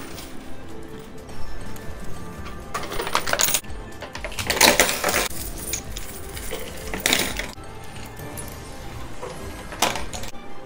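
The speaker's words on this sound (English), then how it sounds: "I'm gonna grab the quarters, tally it up." Piles of quarters from a high-limit coin pusher are scooped and handled, with dense clinking and jangling of metal coins in bursts throughout, sometimes louder, with no talking.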